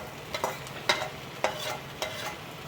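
Egg being fried and stirred in a wok for egg chowmein, with soft background sizzle and a few distinct scraping stirs spaced about half a second apart, close by and fairly quiet.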